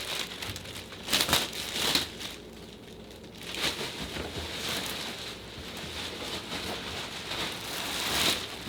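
Plastic wrap is cut away from a boxed PVC/resin Dark Souls Gravelord Nito statue with scissors, giving close, loud crinkling and rustling that keeps going with a few sharper crackling bursts.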